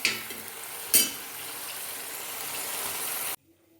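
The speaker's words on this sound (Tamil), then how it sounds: "இது நல்ல எண்ணெயிலே நல்லா சுருளில் வதங்கணும்." Mutton fries in oil for a white gravy, a dense close sizzle with a stirring scrape near the start, steady for over three seconds before cutting off to near silence.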